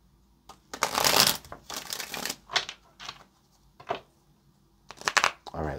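Cards being shuffled in several quick riffling bursts separated by short pauses, close and fairly loud, with no talking.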